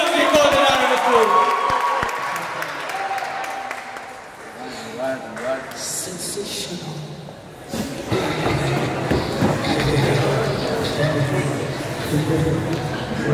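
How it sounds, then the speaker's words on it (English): A live audience at a talent show qualifying round breaks into applause and crowd noise for a contestant called onto the floor, the clapping swelling midway and continuing under a host's talk. "A round of applause as we call the man on the floor."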